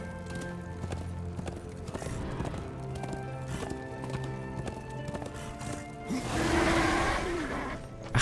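Steady clip-clop of horse hooves trotting in a regular rhythm alongside a music-like background in Darksiders 2, with a brief whinny-like rise near the end.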